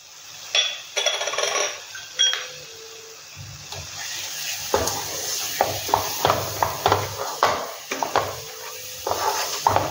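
Besan halwa with fried cashews, raisins and cardamom powder stirred in a pan, a steady run of close spatula scrapes and clinks against the metal with a faint sizzle, no talking.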